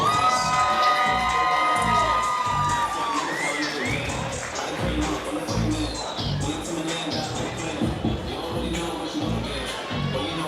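A big crowd at a jiu jitsu event roars and whoops for the losing fighter, loud shouting and cheering rising and swelling continuously for about ten seconds, with high-pitched yells cutting through.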